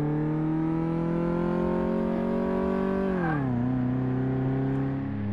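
Simulated car engine in Car Mechanic Simulator 2018 holds a strained, steady high rev near the red line, a loud sustained whine that drops in pitch as the gear changes, then settles lower, with no voices.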